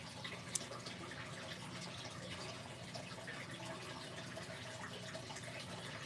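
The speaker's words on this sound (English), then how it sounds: "You can hear my fish tank," Water in an indoor fish tank runs and trickles in a constant, soft, even hiss with no voices.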